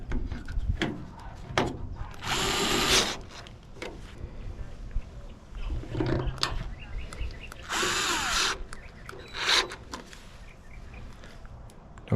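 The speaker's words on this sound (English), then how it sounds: "Screw the screws back in." A power drill drives screws into the plastic housing of a Chevy GMC square body truck taillight, with short whirring bursts separated by pauses and light handling clatter, close by.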